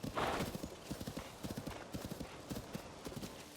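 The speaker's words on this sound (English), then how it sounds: "let's not spook the horse." Horse hooves clip-clopping in Zelda: Tears of the Kingdom, a steady run of close hoofbeats with a brief whinny-like burst at the start, alone without talk.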